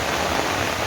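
Rain falls in a steady, dense wash of noise, close and fairly loud, with no voices, across a very short moment.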